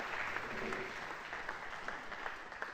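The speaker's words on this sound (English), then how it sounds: "you hear applause because we do have a live audience" Live audience at an after-hours jam session applauds steadily, a dense wash of many hands clapping at moderate distance with no talk over it.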